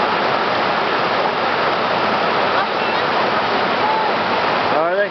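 River water rushes and churns steadily at close range, a loud, continuous broadband wash like a small waterfall, with a brief bird chirp near the end.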